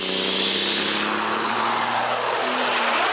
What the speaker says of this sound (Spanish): el Perkins 6354 fue uno de los motores diésel más queridos de América Latina